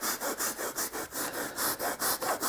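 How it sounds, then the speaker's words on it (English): Brisk rhythmic scrubbing of soaked carpet with a Bissell Little Green portable carpet cleaner, about a dozen even back-and-forth strokes, close and loud, with no talking. "right now I'll try and scrub this now that it's kind of soaked"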